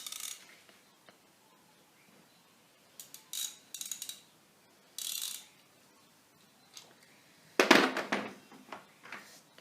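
Half-inch drive 90-tooth ratchet from a Toolpro X toolkit, heard as several short bursts of fine, rapid clicking separated by quiet gaps, with the loudest run near the end and no voices.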